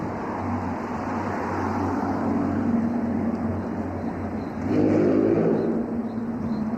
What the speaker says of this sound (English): There goes a Ferrari.